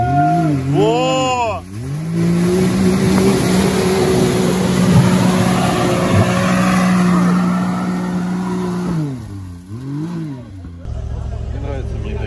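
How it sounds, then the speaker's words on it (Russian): Off-road vehicle engine in the Caucasus mountains revving hard at full throttle, a loud sustained roar that climbs and holds for several seconds before dropping and revving again, with people talking over it. "сейчас она ему даст всю мощность. Все, все, пошел, полный газ!"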